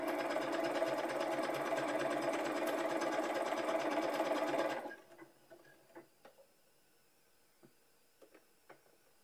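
A sewing machine runs in a fast, steady mechanical chatter for about five seconds, then stops, leaving a quiet room with a few scattered clicks and taps.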